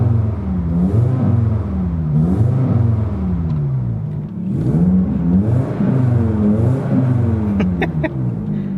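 A warmed-up Volvo 850 engine runs after an engine flush, with a steady mid-pitched hum that rises and dips in repeated revs, close and fairly loud.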